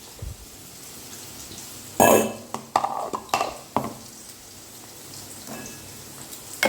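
Potatoes fry in a pan in a home kitchen with a faint steady sizzle, broken by a burst of loud clattering as a utensil stirs and scrapes the pan.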